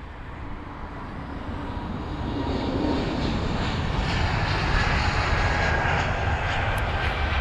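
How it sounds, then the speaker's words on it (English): An Egypt Air Boeing 777-300ER arriving on runway 27 left at London Heathrow, a broad roaring jet engine rumble that builds and holds loud and steady as the aircraft passes. "And from Cairo's this arrival, here's the Egypt Air 777-300ER."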